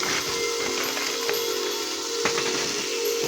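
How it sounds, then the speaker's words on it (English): Beef sears in a hot skillet with a steady, close sizzling hiss that holds at an even level, broken by a couple of brief crackles. "It's hot enough because it's sizzling."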